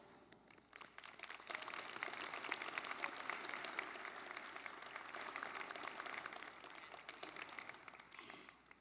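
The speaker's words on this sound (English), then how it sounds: "I invite the graduates and our platform party to join us in applauding how much you all have given to our graduates." A large audience at a May 2024 university commencement ceremony breaks into sustained applause that carries on evenly for several seconds, soft and somewhat distant.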